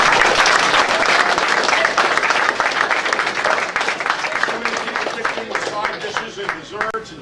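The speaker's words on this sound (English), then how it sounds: "Please give a big round of applause for" Loud audience applause at a 2014 season awards pre-ceremony, sustained crowd clapping that gradually thins and fades over several seconds, with a voice speaking over the tail end.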